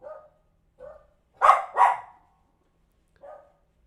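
A dog barks indoors in a quiet room, several short barks in an uneven pattern: two soft yips, a pair of louder close barks, then a faint final yip.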